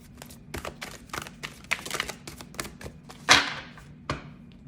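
Tarot cards are pulled and handled close up, giving a quick irregular series of crisp taps, slaps and shuffling flicks with one louder snap near the end.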